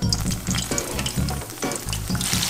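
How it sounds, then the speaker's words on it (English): Okra fries in hot peanut oil with a loud, close sizzle and crackle, and bursts of stirring or shifting add rough pulses through the hiss. "All right, that's sizzling. I'm gonna add the rest."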